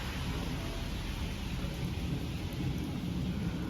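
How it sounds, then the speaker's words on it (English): Steady, dense rain pours throughout, a constant hiss with low rumbling underneath, no voices. "but it's still raining"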